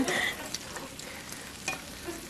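Sweet plantains frying in a pan, a steady broadband sizzle with a few brief louder crackles and spits, close and alone with no talk.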